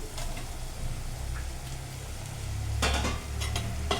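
Taro root pieces stirred gently in a pan for a tamarind stew, a continuous close scraping and light sizzle with a few sharper clinks of the spoon near the end.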